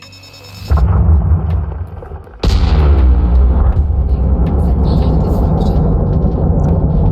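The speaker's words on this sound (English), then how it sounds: "now let's hear the beautiful sound of the asteroid explosion" An asteroid blows apart during mining in the space game Elite Dangerous: a sudden heavy boom hits, rumbles on, then a second sharper blast crashes in and sustains a loud, roaring low rumble to the end.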